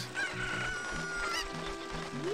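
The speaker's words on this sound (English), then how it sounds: "stop screaming, chicken." A cucco chicken in The Legend of Zelda: Ocarina of Time squawks and crows in a run of loud, repeated shrill cries over game music.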